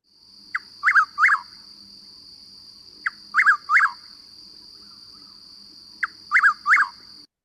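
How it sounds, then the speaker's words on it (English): Chuck-will's-widow singing at night, three clear repeated phrases spaced about three seconds apart, each a short soft note followed by quick emphatic whistled notes, alone over a steady insect drone. "it's the Chuck Will's widow"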